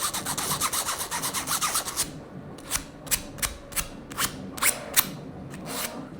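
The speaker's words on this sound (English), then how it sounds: "Maybe we could scuff it up a little bit more up here" Telescope tube surface on a Newtonian build being scuffed with abrasive, a rapid rhythmic run of rasping strokes, then slower, separate scrapes with pauses between, close and moderately loud.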